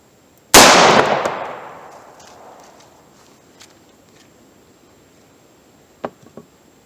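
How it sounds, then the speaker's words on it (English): A single sharp, loud .38 Special +P shot from a pocket gun into wooden boards, its blast decaying over a couple of seconds, followed by a few faint clicks and clanks. "here's the second attempt with the 38 plus P"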